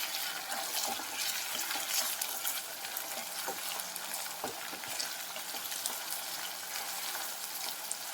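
A beans and carrot curry cooks in a pan, giving a continuous hissing sizzle with scattered clicks and scrapes as it is stirred and mixed, fairly close and steady, with no talking.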